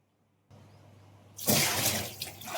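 Tol fish are rinsed in water in a pot: a faint rustle is followed by a sudden loud splash and swirling, sloshing water over the last second.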